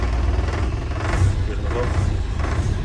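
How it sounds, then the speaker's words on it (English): A Series 1 Land Rover engine runs steadily at close range, a low rumble with slight rises in revs, mixed with some indistinct voice or background noise. "The engine is now running again."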